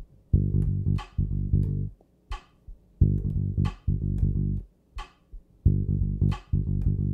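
A bass guitar plays a repeating rhythmic pattern of low sustained notes in groups, with sharp percussive string attacks and short gaps between phrases.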